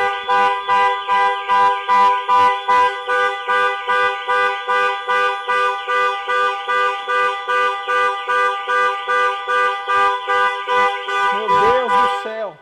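Panic alarm of a 2023 Range Rover Sport set off from the key fob, blaring a loud, steady pulsing electronic wail that repeats rapidly and evenly throughout before cutting off near the end.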